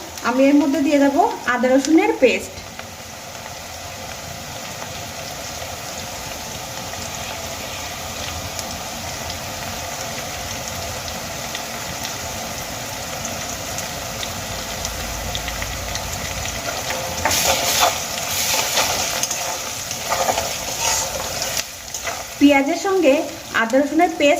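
Sliced onions sizzle in a pan, fried for a while during a green pea recipe. A steady crackling sizzle with occasional stirring runs throughout, and brief speech is heard at the start and end.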